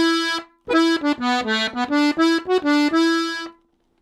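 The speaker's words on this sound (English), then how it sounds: "The first ornament I'm going to demonstrate is called a cut." Piano accordion playing a melodic line in Irish traditional style, with brief grace-note cuts flicked in before the main notes, bright reedy tones sounding close and alone, ending on a held note.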